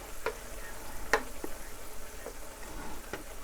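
Garlic fries in oil in a pan for turkey spaghetti, giving a soft steady sizzle broken by a few sharp clicks and scrapes of a utensil stirring it.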